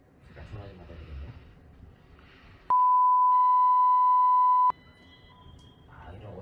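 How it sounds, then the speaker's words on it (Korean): During a phone call, a telephone gives one steady electronic beep lasting about two seconds, loud and pure-toned, with quiet talking before and after it. "잠깐 전화 좀 받아야 되겠네요."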